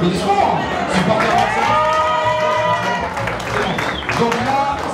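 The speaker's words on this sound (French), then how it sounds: "ça applaudit fort." Spectators at the French beard championship clap loudly, with cheers and shouts rising through the sustained applause and voices talking on top.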